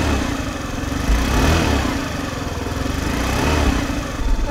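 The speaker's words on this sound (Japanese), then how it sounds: "吹かしてもアイドリングが一定にできてます。" A motorcycle engine idles steadily right after a battery jump start from a portable jump starter, chugging close and loud in an even, slightly uneven-pulsed rhythm.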